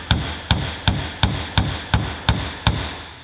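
Wooden hammer handle tapping a socket seated in an LS engine lifter piston, eight evenly spaced sharp knocks, close and loud with no talking.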